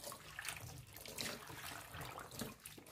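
Water runs from a kitchen tap into a bowl, a soft continuous splashing and trickling stream at low level, heard alone without voices.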